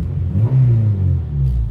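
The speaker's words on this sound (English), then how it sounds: "I just revved it for you." A car engine rumbles and revs up briefly, loud and close, a deep throaty swell with no talk over it.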